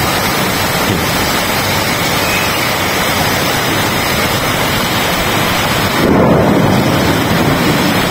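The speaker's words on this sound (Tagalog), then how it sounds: "Kapag maghapong ulan, ayan, lumakas yung buhos." Heavy rain downpour in Qatar pours steadily and loudly throughout, a dense continuous roar that swells even stronger near the end, with no clear thunder crack standing out.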